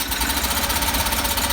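A Homelite generator engine sputters in a rapid, steady mechanical chatter after a pull on the starter cord, loud and close for just over a second.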